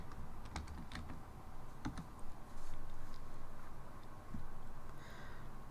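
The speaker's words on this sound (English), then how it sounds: "let's type in another popular item" Typing on a computer keyboard: a close, quiet stream of light key clicks with a few sharper taps, over a soft steady room hum.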